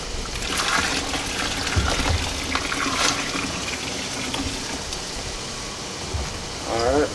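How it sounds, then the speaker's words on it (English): Water poured into a homebrew mash of organic 2-row base malt gives a continuous splashing trickle, with brief louder gurgles and a faint voice in the background. "I'll go ahead and put the rest of my little bit left of my water."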